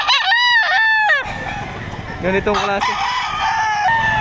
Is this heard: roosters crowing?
yes